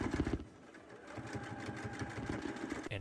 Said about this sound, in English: I'm just going and doing an edge stitch at the bottom of the waistband to sew that seam allowance into place